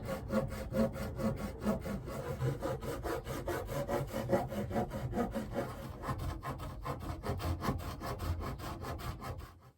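A hand saw recuts a fret slot in a wooden guitar fretboard, guided by a depth gauge with a little wax on the blade, giving a close, rapid, rhythmic rasp of short back-and-forth strokes with no talking.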